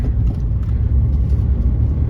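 A Volkswagen Beetle TDI diesel engine rumbles steadily at low pitch in fifth gear, a continuous droning drive with no talking over it.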